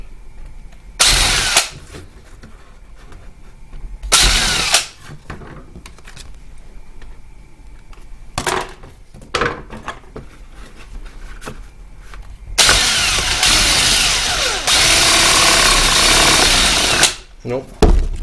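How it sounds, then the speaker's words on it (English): Impact driver drilling holes through a pinball playfield plastic, with short bursts early on and a long, loud sustained run near the end, separated by quieter handling noise. "Just got to drill the holes."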